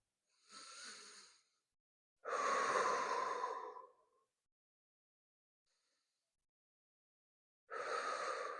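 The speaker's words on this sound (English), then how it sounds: "Deep breathing in this position for 3 deep breaths." Slow, deep breaths during a Pilates knee-hug stretch: three soft, airy breath sounds, close and quiet, separated by stretches of silence.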